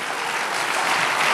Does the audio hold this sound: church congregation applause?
yes